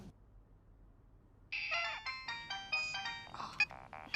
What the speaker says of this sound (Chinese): 别总是开会的时候这个手机此起彼伏的响